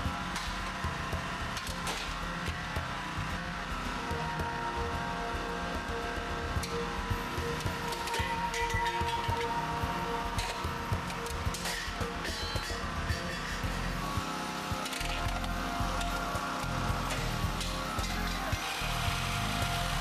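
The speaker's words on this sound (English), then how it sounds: "Here we will cut the boron steel side impact beam from a Volvo S60." A hydraulic rescue cutter bites through the boron steel side impact beam of a Volvo S60, giving a continuous, dense grinding and creaking mechanical noise with irregular cracks and strains throughout.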